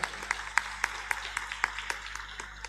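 Audience applause for children who have memorized the Qur'an, at a Muhammadiyah religious gathering in Tegal. Faint, distant clapping with steady irregular claps runs through the clip.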